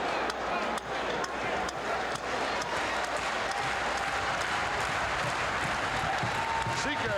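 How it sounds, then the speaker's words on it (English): A capacity wrestling arena crowd at a WWF event roars and applauds steadily, a dense, loud wall of cheering and clapping that holds without pause throughout. "Sika getting his capacity crowd going."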